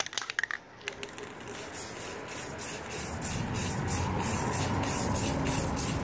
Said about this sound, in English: I'll probably just put like one coat of primer over everything,